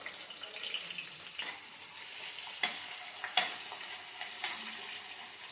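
Onions and green chillies frying in a pan for a chicken curry, a steady close sizzle with scraping stirs and a few sharp clinks of a utensil against the pan.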